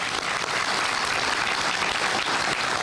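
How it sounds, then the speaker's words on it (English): An audience at a CPS Energy solar project announcement claps steadily, a dense, sustained wash of applause heard close and without talk. "a round of applause for them too"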